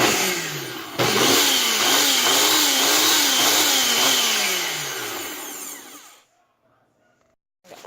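A Ninja blender whirs loudly as it blends butter, its motor note rising and falling in a wavering pitch for about five seconds before cutting out to silence, with a faint click at the end.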